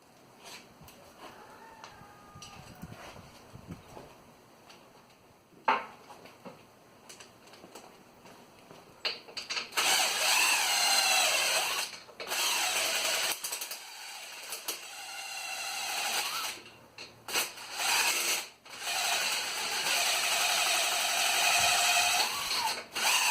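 A power tool loosens bolts to free a GY6 motor from a Yerf Dog Cuv Rover, whirring loudly in long bursts in the second half after quieter handling and clinks.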